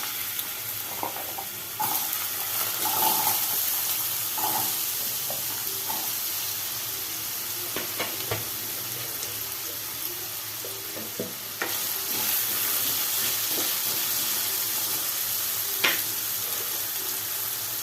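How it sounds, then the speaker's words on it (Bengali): Chopped potatoes hit very hot oil in a wok over a lowered gas flame, giving a steady, close sizzle with scattered clicks and scrapes of stirring throughout. "তেলটা আমার খুব গরম হয়ে গেছে এবার আমি গ্যাসের ফ্লেমটা একটু লো করে আলুগুলোকে দিয়ে দেবো"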